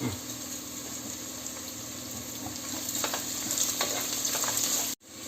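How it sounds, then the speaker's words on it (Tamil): Sliced onions with salt fry in a pan for wedding-style chicken biryani, a steady, close sizzle with faint stirring scrapes throughout, cutting off abruptly near the end. "இப்போ நம்ம வெங்காயத்தை கூட கொஞ்சம் உப்பும் சேர்த்துப்போம். சீக்கிரம் வதங்கும்."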